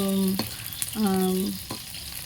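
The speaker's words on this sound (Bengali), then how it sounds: "এই মাছগুলো এখন ভাজা করছি" A pan of fish fries with a steady hiss underneath, while two sustained humming tones rise over the sizzle, one at the start and another mid-way, all fairly close.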